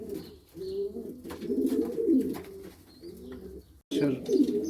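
Pigeons coo in low, rolling phrases close by, repeating with brief pauses, with faint chirps in the background.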